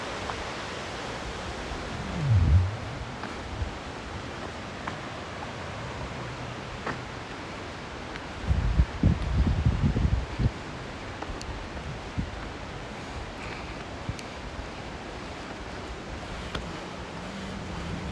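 Steady rushing water of Crystal Creek Waterfall in Shasta-Trinity National Forest, a broad, even roar running throughout, with a couple of brief low thumps and rustles near the microphone.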